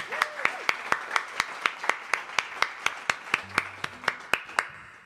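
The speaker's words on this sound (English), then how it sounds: "obviously a big round of applause to Joe on sound" An audience at a live monthly music show claps in a steady, evenly spaced rhythm of sharp, loud claps, close by, with no talk over them.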